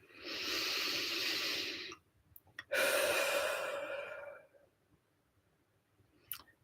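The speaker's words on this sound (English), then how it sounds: "Have a deep breath." A slow, deep breath, drawn in and let out audibly close to the microphone as a long airy hiss, with a brief pause between the inhale and the exhale and quiet afterward.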